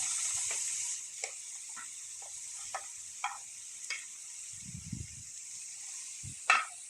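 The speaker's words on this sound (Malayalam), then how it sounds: "ആദ്യമേ ഫ്രൈ പാൻ അടുപ്പത്ത് വെച്ച് നമുക്ക് സ്വീറ്റ് പൊട്ടറ്റോ ഇട്ട് കൊടുക്കാം." Orange sweet potato frying in a pan for a spicy stir-fry, a bright steady sizzle that fades after the first second, then soft intermittent crackles and scraping stirs, with no speech.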